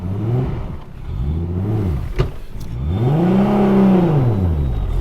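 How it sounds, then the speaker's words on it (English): An 800 hp Nissan R34 GTR race car with an HKS RB28 engine and sequential gearbox revs repeatedly, rising and falling in smooth blips, with a sharp click between, then a longer, louder sustained rev, close and unaccompanied by talk. "don't be afraid to rev it more than you think"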